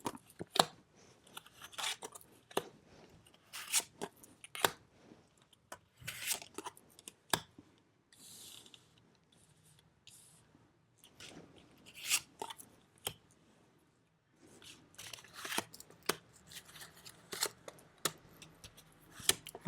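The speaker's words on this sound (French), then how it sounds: "Alors, on va tirer les cartes." Tarot cards shuffled and drawn at a morning reading, a string of crisp, close snaps, flicks and papery rustles in irregular bursts with quiet gaps between.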